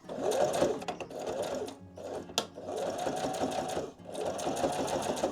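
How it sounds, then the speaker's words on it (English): A sewing machine stitches through many stacked fabric layers of a fabric adventure book, running in several steady bursts with a brief pause between them. It is fairly close and at moderate volume. "I'm going to stitch along the bottom 3 edges"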